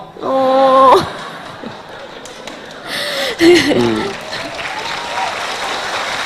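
A live audience claps together at a stage show, with bursts of applause rising and fading among voices and a singer's tones.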